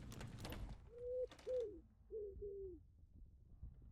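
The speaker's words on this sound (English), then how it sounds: "I think it's just pigeons." Pigeons coo in a video game, giving several short rising coos, two pairs in quick succession, fairly faint over some clicking mechanical noise at the start.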